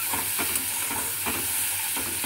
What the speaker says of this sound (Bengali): এটা দিয়ে একটু নাড়বো